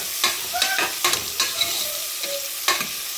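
Ginger and green chilli crackling in hot oil for a Rajasthani-style tadka, a steady bright sizzle broken by sharp spatters and stirring clatter, close and fairly loud, with no talking.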